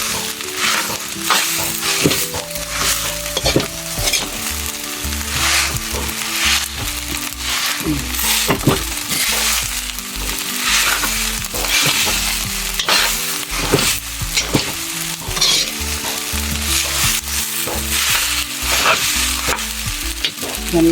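Food stirred and fried in a pan while cooking outdoors in the mountains, with continuous loud sizzling and repeated scraping, clanking stir strokes throughout, no voices.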